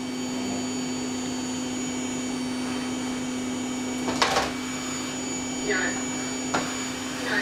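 A household vacuum cleaner runs with a steady whine and constant hum, close and continuous, broken by a few brief clunks and knocks, with no talk over it.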